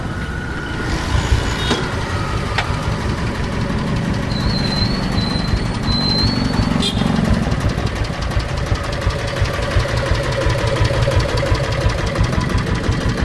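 Diesel Bullet motorcycle engine, owned five years, running with a steady broadband chug and rattle throughout, loud and close, with a brief high whine midway and no talk over it.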